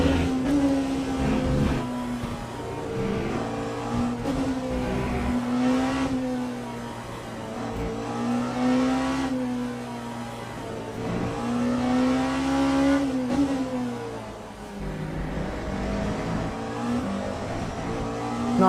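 A BMW race car in the Le Mans Ultimate sim racing game at COTA, its engine loud and continuous, rising and falling through repeated gear changes and revving, with no talk.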